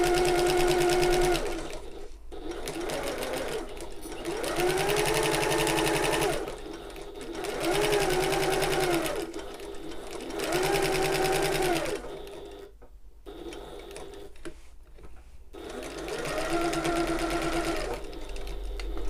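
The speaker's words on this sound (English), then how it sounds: "we're going to sew this using the regular seam allowance from top to bottom" A sewing machine runs in several bursts of rapid whirring stitches with short pauses between them, back-stitching a side seam on a fabric shoulder bag, close and clear.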